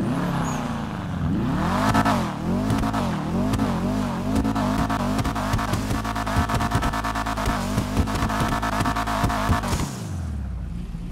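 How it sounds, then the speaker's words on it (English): Calico GTF car engine in GTA Online revving hard and continuously, with rising and falling pitch through gear changes and a few sharp bursts, loud and close for about ten seconds before cutting off. "The Calico GTF is a very, very cool car, and it sounds really good too."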